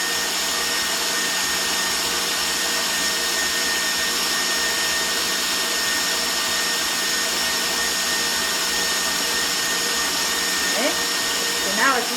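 Electric whisk beating eggs and sugar for a sponge cake, a constant, loud motorised whir that holds steady throughout with no break in pitch or volume.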